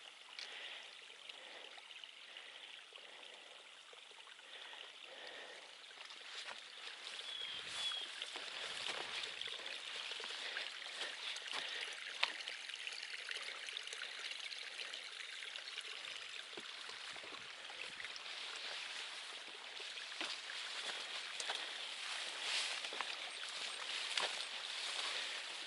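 Water runs steadily through a wet trail area near a beaver pond, a continuous broad rushing wash with small trickling detail, sustained for the whole stretch with no talk.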